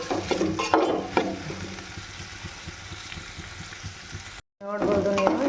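Onions frying in a pan, heard as a steady sizzle under repeated stirring scrapes and clatter, with louder clanks near the start, a brief cut to silence, then the frying resumes.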